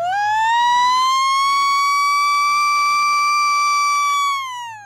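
A voice imitates the siren that ends a hockey period, one long sustained wailing tone that rises slightly, holds loud and steady for about four seconds, then dips as it fades out.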